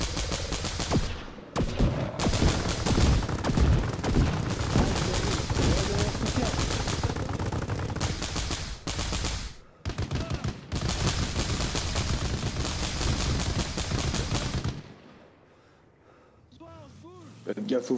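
Gunfire in a Warhammer 40k video game comes as dense, loud bursts of rapid automatic shots and heavier blasts, nearly continuous, with brief pauses before it stops and a quieter tail with a voice.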